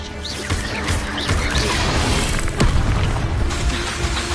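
Incendio fire spells cast in the Hogwarts Legacy video game, a dense run of loud booming, crackling bursts and impacts over a busy battle-effects bed, with a sharper blast near the middle.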